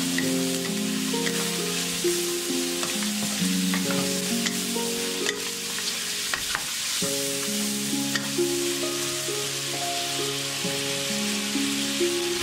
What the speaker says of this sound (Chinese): 放入姜蒜、干辣椒和香叶翻炒